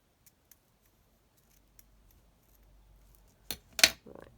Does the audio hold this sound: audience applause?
no